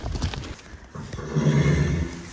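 Horses in a stable give a loud, shaky whinny, and hoof clops and shuffling come before it, all close by with no talk.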